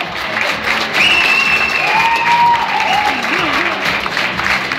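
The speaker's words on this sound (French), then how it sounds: "Adriane, Christiane et Roberta, on les applaudit bien fort" A crowd claps steadily and loudly throughout, with scattered whistles and cheers rising over the applause.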